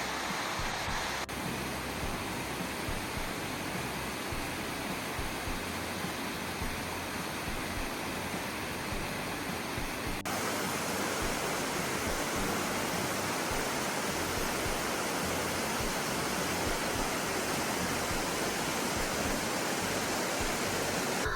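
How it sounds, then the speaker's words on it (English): Little Gibbons Falls in Yellowstone pours in a constant, broadband rushing roar, steady and close throughout with no voices. "This is Little Gibbons Falls."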